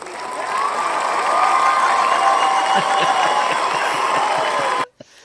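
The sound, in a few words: audience applause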